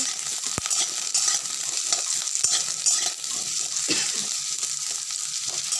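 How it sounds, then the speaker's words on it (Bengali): Elephant foot yam pieces sizzle steadily in hot oil, with a few sharp knocks and scrapes from stirring, close up and without speech. "এই যে কচুগুলো দিলাম বন্ধুরা ভাজার জন্য"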